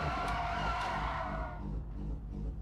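Damaged race car engine in the Project Motor Racing video game, a loud rough droning hum with a hollow rumble and faint squeal that eases and thins partway through, with no voices.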